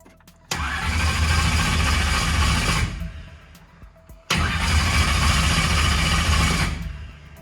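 A race car engine that has sat unused for a while is cranked twice by its starter, each a loud, close, steady churning burst of about two to three seconds. A short quiet gap separates the two attempts, and it never catches.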